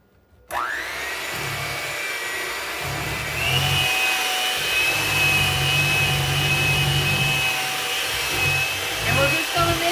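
An electric hand mixer whirs into action, beating eggs into cream cheese cheesecake batter; a sudden start gives way to a steady, loud motor whine that rises slightly in pitch partway through, with a faint voice beneath.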